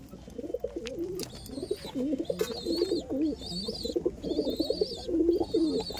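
Male Madrasi pigeon in a breeding room cooing in repeated low rolling phrases, close and steady, with high bird chirps and cheeps from other birds sounding over it, and no talking.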